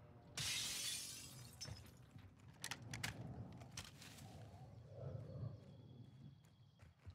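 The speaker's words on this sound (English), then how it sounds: "You hit a window right above me" Glass shatters when a window is shot in Call of Duty Warzone: a sharp, bright crash at the start, then scattered clinks, thuds and game noise fading over several seconds, all fairly faint.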